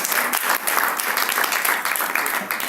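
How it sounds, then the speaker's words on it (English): An audience at a professional HR auditing seminar claps together in sustained, dense applause, loud and fairly close throughout with no speech. "let's give a round of applause"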